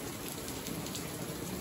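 Steady heavy rain pours down during a thunderstorm in Big Bear, California, a dense continuous hiss of drops with no one speaking.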